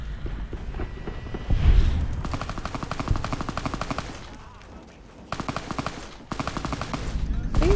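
Repeated bursts of automatic gunfire in the video game Fallout New Vegas, rapid stuttering volleys broken by short pauses, loud and close, with a heavy thud near the start and faint talk underneath.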